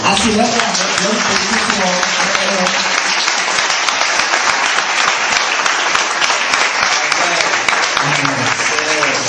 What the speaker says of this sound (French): Si tu peux acclamer Jésus encore